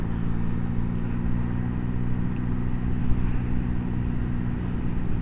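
A Yamaha XSR900 motorcycle engine during a ride, a steady low drone with strong harmonic hum and wind rush as the throttle rolls off, continuous and close with no talking.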